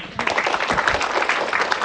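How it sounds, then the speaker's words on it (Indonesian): A short burst of audience clapping at a religious study gathering, dense and steady across its brief length with some crowd noise mixed in. "Tepuk tangan dulu yuk."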